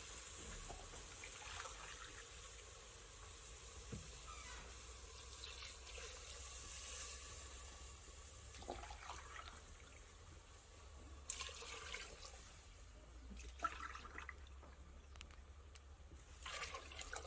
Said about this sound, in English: So now we've already added 4 cups of water.